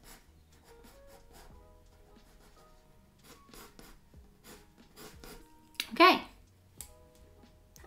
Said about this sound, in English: So I'm just gonna use a pencil to do that.